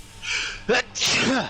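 A single sneeze in the middle, with a voice speaking just before and just after it.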